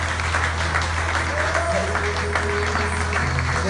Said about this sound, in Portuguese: Vamos aplaudir com muita alegria.